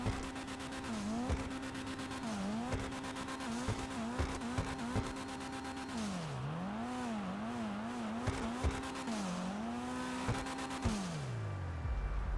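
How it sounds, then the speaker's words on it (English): The small four-cylinder engine of a Dinka Postlude car revs repeatedly in GTA Online, pitch climbing and dropping through gear changes, steady and loud with no talking. "Definitely sounds like a little 4-banger."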